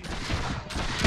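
Musket-style gunfire in Mount & Blade: With Fire and Sword, a rumbling battlefield volley with shots and booms piling up close and fairly loud, ending on a sharper blast.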